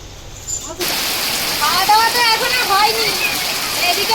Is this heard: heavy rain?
yes